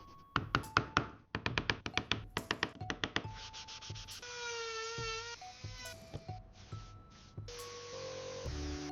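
Wooden Ferrari toy car being assembled in an AI-generated ASMR sequence: rapid crisp wooden taps and knocks in quick bursts, followed by rubbing, scraping and whirring tones, close and clean.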